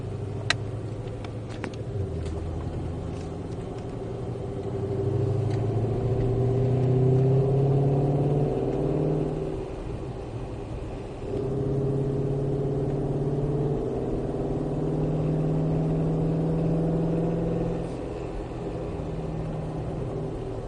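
A Shelby Ford Mustang on a track, its engine droning and rising in pitch as it accelerates, then dipping and climbing again, heard steadily from inside the car with no talk.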